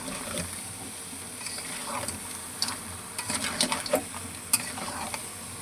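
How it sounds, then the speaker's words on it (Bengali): Large crabs sautéed with spices in a pan, a steady close sizzle broken by irregular scraping stirs and clacking knocks of the spoon against the pan. "এই যে কাঁকড়া ঢেলে দেবো, এবার ভালো করে কষিয়ে নেব"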